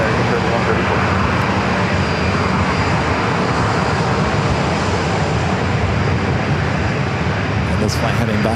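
An American Airlines Boeing 737-800 takes off from runway 27 at San Diego airport, bound for Chicago O'Hare, a loud sustained engine roar filling the air without letup.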